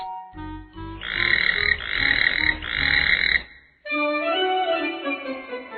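Toads croak in three loud, rasping bursts of about a second each, followed by a stretch of higher, warbling calls, with no voices over them.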